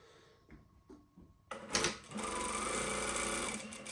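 A Brother S7220D-403 direct drive needle feed industrial sewing machine starts after a few faint clicks and runs a fast, steady stitching whir at close range.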